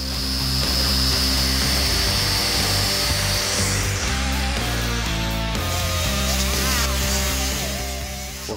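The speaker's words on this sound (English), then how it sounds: "A regular old saw blade won't cut these things, so we have to use an abrasive disc on a big grinder." A big grinder with an abrasive disc cuts through the body of a 1969 Dodge Charger, giving a loud steady whine with a strong droning hum that runs continuously throughout.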